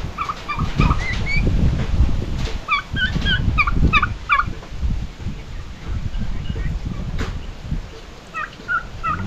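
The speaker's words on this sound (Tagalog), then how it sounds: "Mga pabo natin oh. Inom sila oh." Turkeys drinking in a Filipino farmyard, gobbling in repeated rapid bursts near and far over rustling and low background noise, with a brief pause between calls.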